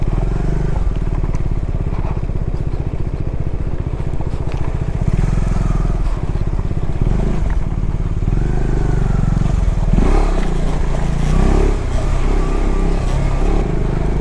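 A motorcycle grinds along a rough, unpaved off-road mountain track in the Zanskar Valley, its engine a steady close drone under continuous rattling and crunching from the rocky surface.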